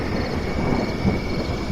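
Thunder rolls as a low, steady rumble during a rainy night storm, with a soft hiss of rain throughout the brief stretch.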